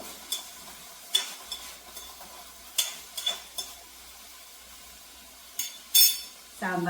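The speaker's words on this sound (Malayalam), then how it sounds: "കടുവ് വറുക്കട്ടെ" Mustard seeds fry in hot oil as scattered sharp pops and crackles, mixed with clinks of a utensil against the pan, over a faint sizzling background.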